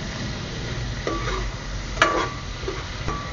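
Onion and garlic sautéing in a pan for a dish of shrimp, a soft steady sizzle broken by a few stirring scrapes and one sharp utensil clink, close and with no talk.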